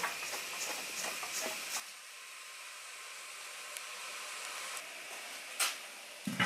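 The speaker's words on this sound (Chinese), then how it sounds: "水烧开了" Water coming to a boil in a covered pot on a rural earth stove, holding steamed greens: a steady, fairly faint hiss of steam with a few soft clicks and a short rattle near the end.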